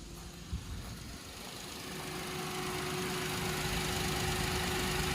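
A Maruti Alto 800 three-cylinder car engine idling with a low, even rumble and faint mechanical hum, growing slightly louder and steadier over a few seconds.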